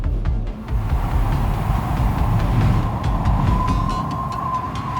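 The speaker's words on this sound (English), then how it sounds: "That's the sound of the actual Antarctic winds." Strong Antarctic polar plateau winds roar in a dense, steady low rumble with gusty surges throughout, loud and continuous with no voices.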